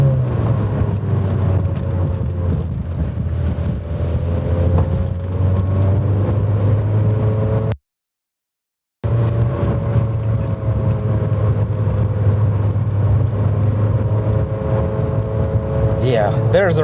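A 2008 Mazda MX-5 Miata NC engine drones steadily from inside the car in winter, rising and falling with speed, broken by a short silent gap.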